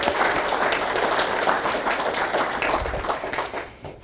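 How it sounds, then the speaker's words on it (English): An audience at a public health gathering claps in a sustained round of applause, dense and fairly close, steady for several seconds before tapering off at the end. "So I'd like you all to take a round of applause for each other."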